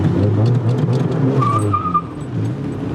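The engine of a slammed, lowered mini truck, refurbished on a budget, revs loudly and continuously up close, with a gritty rumble and a brief higher squeal partway through.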